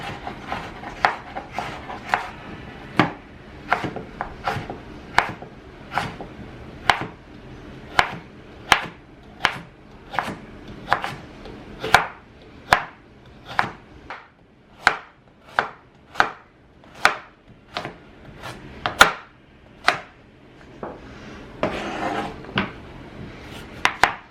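A kitchen knife chops carrots on a cutting board, sharp distinct knocks landing about once a second in an even rhythm, close and clear with no one talking.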